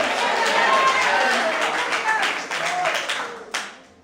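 A church congregation claps together in a steady, dense patter with cheering voices mixed in, loud at first and then tapering off toward the end.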